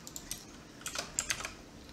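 Code typed on a computer keyboard for a C++ tutorial, a short burst of soft, quick key clicks heard close and alone.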